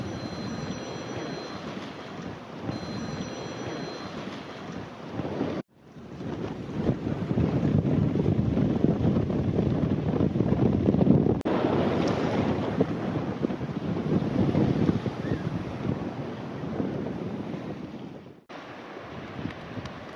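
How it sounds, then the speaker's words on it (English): Strong wind buffets a sailing boat leaving the Roach in the Thames Estuary, a loud roaring rush of gusts and microphone wind noise with brief dropouts, water and hull sounds faintly underneath. "Quite windy today."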